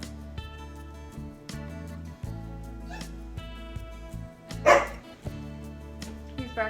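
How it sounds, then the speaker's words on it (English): A dog barks at a rabbit a few times over steady background music, with one sharper, louder bark standing out near the end. "He's barking at the rabbit"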